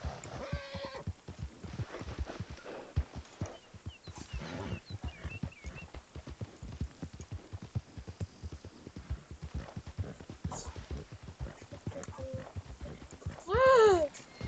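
Horse hooves clop in a quick, steady rhythm through the open world of Red Dead Redemption 2, a long run of close, dry hoofbeats with a brief tonal squeal near the end.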